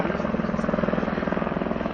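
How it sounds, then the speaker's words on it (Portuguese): Police military helicopter flying over a search for criminals, its rotor thumping in a fast steady pulse against a constant engine hum, fairly loud and continuous for the whole stretch without talking. "A gente está acompanhando agora aqui o trabalho dos militares do helicóptero"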